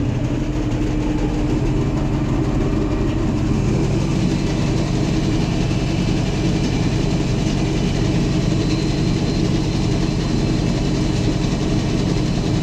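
A tractor engine held at about 1500 rpm drives a PTO-driven auger on a farm, a steady deep rumbling drone with a constant mechanical whir that stays loud and unchanged throughout, with no voices.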